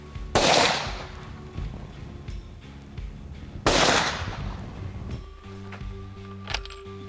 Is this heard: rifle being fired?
yes